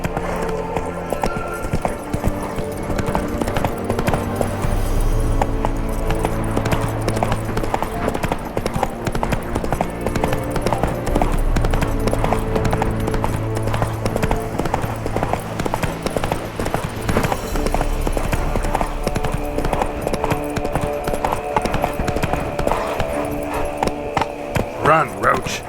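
Geralt's horse Roach gallops in The Witcher 3: Wild Hunt, rapid rhythmic hoofbeats pounding steadily and loudly throughout over a game music score, with voices talking at times.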